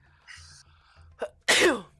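A single sharp sneeze bursts out near the end, preceded by a quick inhaled catch and faint breathy sounds.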